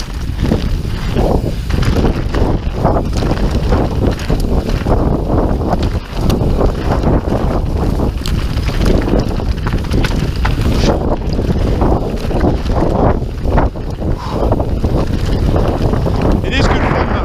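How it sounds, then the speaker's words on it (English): Strong wind roars across an open mountain bike trail on the Isle of Man, loud gusty buffeting on the microphone that rises and falls continuously, with a rider's voice heard intermittently beneath it. "So windy, just takes all of your speed out of you"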